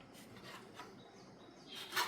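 A knife scrapes and rasps softly as crust edges are cut off bread slices, faint and close, with a brief louder scrape at the end.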